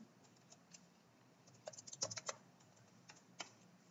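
Soft, quick keystrokes on a computer keyboard while Java code is typed, faint and close, with a brief flurry of taps in the middle and scattered single clicks around it.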